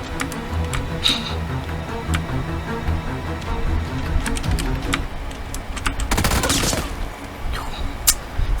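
Gunfire from players fighting in PUBG: repeated sharp shots crack out at irregular intervals over a steady in-game background, with a denser burst of fire near the end.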